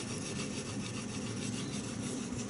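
Knife blade drawn across a sharpening stone, a dry rhythmic rasping and rubbing that repeats in quick even strokes, close and alone.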